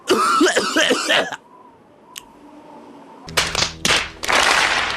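A few sharp coughs and throat-clearing noises near the mic at the start, then a quiet pause, followed by a louder burst of harsh coughing.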